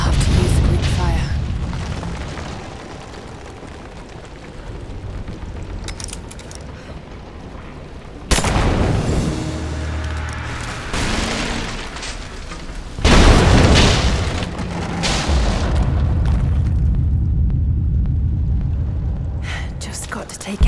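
Greek fire explodes in the video game Rise of the Tomb Raider, with two deep booming blasts and a rumbling fiery roar around them, loud and close, over a low ambient game soundscape with some speech.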